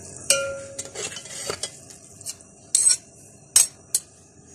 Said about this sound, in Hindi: हल्की से इसकी टॉसिंग कर देंगे ताकि एग इसमें मिक्स हो जाए